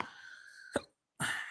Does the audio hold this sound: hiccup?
yes